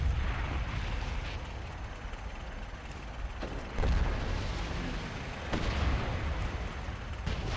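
A siege weapon fires repeatedly in World of Warcraft's War of Thorns, with dull thuds and mechanical clunks over a constant rumbling battle din and no talk.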